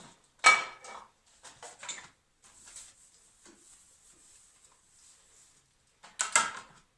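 Dishes and cutlery clink and clatter in short bursts, with quiet running-water hiss between the knocks; fairly faint, no speech.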